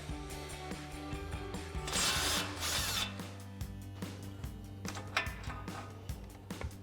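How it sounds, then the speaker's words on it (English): An impact wrench with a 19mm socket whirs and hums close by with a short, louder burst of rattling impacts removing a nut on a Toyota Tacoma, then winds down into a steady mechanical drone. "grab our 19mm socket on our impact and go ahead and run that off."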